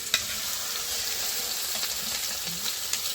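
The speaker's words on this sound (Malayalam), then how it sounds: "എണ്ണയൊക്കെ ചൂടായിട്ടുണ്ട്. അങ്ങനെ മീൻ നമ്മളിത് ഉരുളിയിലേക്ക് ഇങ്ങനെ നല്ല ഇതിൽ തന്നെ വെച്ചു കൊടുക്കുകയാണ്." Fish frying in hot oil in an uruli pan: a continuous close, crackling sizzle with occasional sharper pops and spatters, steady and alone without talk.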